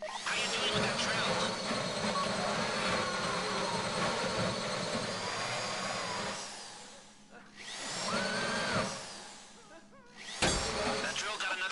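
Heist drill grinding in GTA V Online, a steady high whining mechanical roar that runs continuously, then cuts out and restarts in short bursts toward the end, with voices talking over it.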